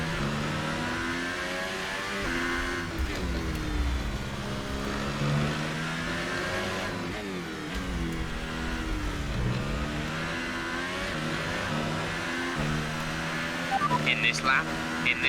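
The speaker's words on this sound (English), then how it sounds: "I know the engine is struggling." An F1 2018 race car engine strains and revs in a video game, repeated rising and falling whines through gear changes, loud and near, with a voice talking over it at times.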